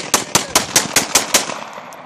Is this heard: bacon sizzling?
no